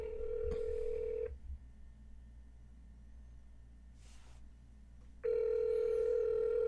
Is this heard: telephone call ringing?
yes